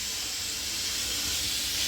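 A pressure cooker boiling eggs on a home stove lets out a continuous, fairly quiet steam hiss, steady throughout with no distinct whistle blast and no talking.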